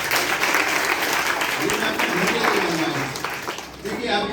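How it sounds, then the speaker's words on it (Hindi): Applause from an audience of students and staff at a school career fair, a broad continuous clapping texture that holds steady for several seconds before thinning slightly near the end, with voices mixed in underneath. "तालियां बजाएं इसके लिए"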